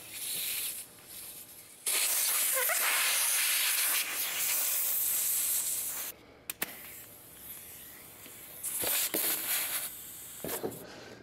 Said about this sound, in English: I'll inflate the tire to the pressure is required, which is 60 PSI